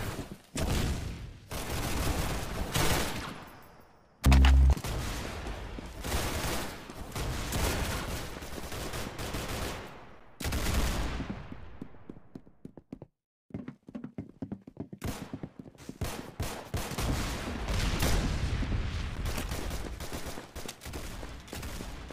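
Rapid, sustained gunfire at double shooting speed in the video game Hackula, loud and dense with bursts broken by brief pauses and a near-silent gap midway.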